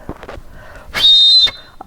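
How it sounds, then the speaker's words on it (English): A folk art toy whistle gives one steady, shrill blown note lasting about half a second, close and loud, with a few soft knocks and handling sounds before it and a faint tap after. "A whistle of some sort."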